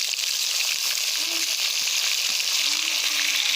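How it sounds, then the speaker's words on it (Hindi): Tomatoes and green chilies added to onions frying in a pot for potato and masoor dal, giving a loud, steady, close hiss of sizzling oil throughout. "अभी इसके अंदर ये टमाटर और हरी मिर्च ऐड कर देंगे"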